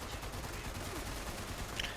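Rapid gunfire from a shootout in the video game Fallout 76, a dense, steady crackle of shots running throughout at moderate loudness.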